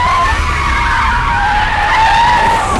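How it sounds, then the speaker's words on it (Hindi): A car brakes hard in a fight-scene chase, tires skidding and squealing in a loud, sustained screech with a wavering high pitch that runs for nearly three seconds over engine rumble. "गाड़ी को ब्रेक मारा क्या?"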